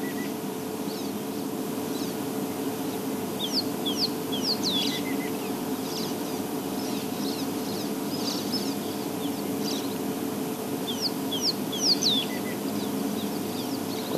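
Small insect-eating black birds with white wing markings calling outdoors, bursts of quick high chirps and twitters at about three and twelve seconds over a steady low background hum.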